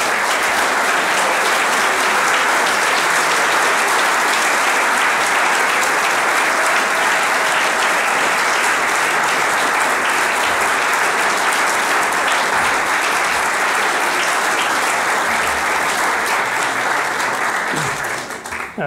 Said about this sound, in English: please give a warm round of applause to Craig Schultz.